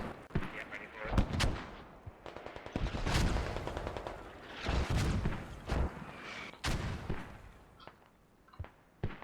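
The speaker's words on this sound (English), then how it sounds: "A lot of mortars hitting very hard." Mortar rounds slam down in the tactical shooter Squad, a run of heavy, sharp booming impacts and crackling gunfire spread across several seconds, some close and loud, others more distant.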